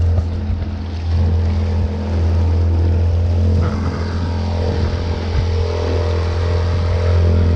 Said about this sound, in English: We're going for a boat ride.